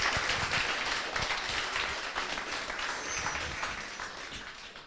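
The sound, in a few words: applause for the mentors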